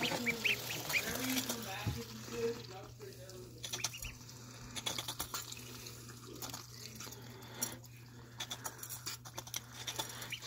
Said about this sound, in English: they're growing ducks and they just go crazy over their food